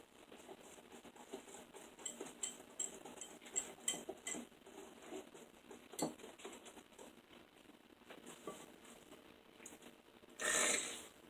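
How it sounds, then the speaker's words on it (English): A whisk clinks and scrapes quietly against a bowl of cherry cobbler batter in a home kitchen, in uneven rhythmic strokes, ending in a brief louder clatter. "Whisk it really good. You're wanting to mix it up like you would a pancake batter."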